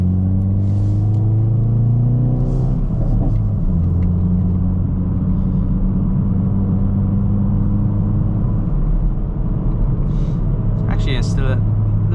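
Hyundai i30N Facelift with a loud exhaust driving on a motorway, a steady low engine drone with gear-change shifts in pitch and occasional crackles, heard from inside the car with a voice talking over it.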